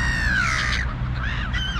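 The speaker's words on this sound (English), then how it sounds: "Looks like the crows are dominating the feeding station." Crows at a bird feeding station give loud, close, harsh caws, a drawn-out call followed by a couple of shorter rasping ones in under two seconds, with no talking.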